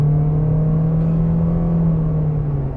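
A 2020 Toyota C-HR XLE accelerating, its engine holding a steady droning hum with a faint whir, heard from inside the cabin as a constant, fairly loud note without any talk.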